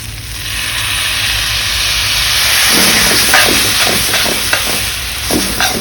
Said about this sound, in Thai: ระหว่างผัดเราก็เติมซอส